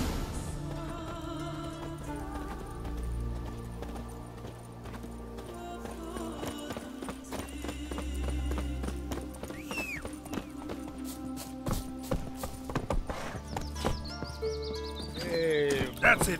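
Roach the horse gallops in The Witcher 3 with a steady clip-clop of hooves and a few neighs, set over sustained game music with voices in the background.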